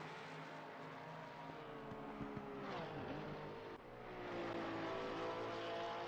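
A Porsche race car engine in a sim racing game on the Nordschleife drones steadily, then its pitch dips on a downshift before rising again as it revs up and accelerates.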